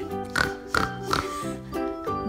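A human voice imitates a pig for a kids' animal-noise game, giving about five short, rhythmic oinks in a row, close and clear.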